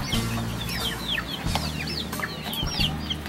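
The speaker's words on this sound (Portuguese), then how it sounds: "Continua aqui os pintinhos, os franguinhos, olha só, a criação." Chicks and young chickens on a farm in Itaperuna, cheeping and clucking steadily with a rooster-like call mixed in, a dense continuous flock sound with no talk.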